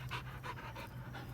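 A dog panting close by in a barn workshop, quick steady breaths repeating in an even rhythm at low volume with no voices over them.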